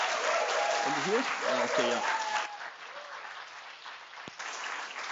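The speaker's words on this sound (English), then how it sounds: "Let's give a big applause." An audience at a youth and culture forum applauds, sustained clapping that dips midway and picks up again, with someone speaking briefly over it.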